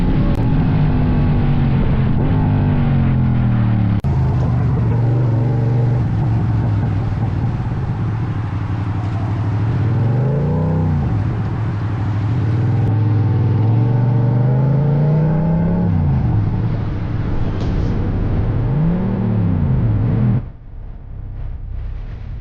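BMW motorcycle speeding past another rider on the road, a loud steady engine drone with rising and falling revs as it passes, then cutting off abruptly near the end.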